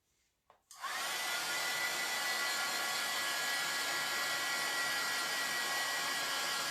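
A dryer switches on with a couple of quick clicks, then blows in a loud, steady, whooshing roar to dry a heat transfer.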